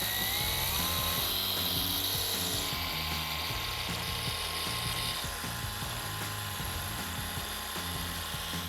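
A car polisher with a finishing pad and compound runs at a higher speed, giving a steady whirring, grinding motor drone with a rhythmic mechanical rattle throughout and no talk.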